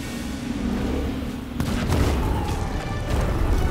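Ship cannon fire in Sea of Thieves, deep booming blasts amid a loud continuous rumble of sea and game noise, with a heavier shot about midway and dense low thumps after.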